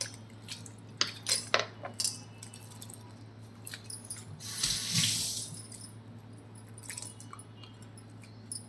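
Chopped banana flower pieces are washed by hand in a sink of water mixed with salt, buttermilk and turmeric, with sloshing, dripping and soft squishing, plus a few clinks of utensils nearby and a brief louder splash midway; no one speaks.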